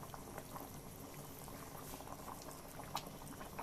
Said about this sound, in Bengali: বেশ কিছুক্ষণ ধরে একটু ফুটিয়ে নেব